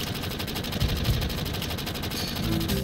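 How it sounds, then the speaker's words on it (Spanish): Rapid machine gun fire in the video game Final Fantasy VII, a dense fast rattle of shots at a low level, sustained without pause and with no talk over it. "Y se lía ahí a tiros."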